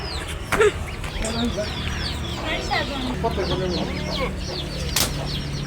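Hens and small chicks cluck and peep close by in a busy, overlapping stream of short calls, with wing flaps and a thump, while a voice occasionally sounds in the background.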